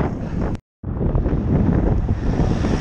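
Strong wind buffets the microphone on a cycling ride into a headwind, a loud continuous rough roar that cuts out briefly near the start and then resumes.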